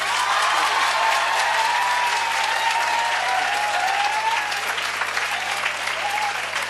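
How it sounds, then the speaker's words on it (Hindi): A room of coaching-centre students claps for themselves, a dense, steady burst of applause that holds at an even level throughout, with no speech over it. "आप अपने लिए तालियां बजा दो"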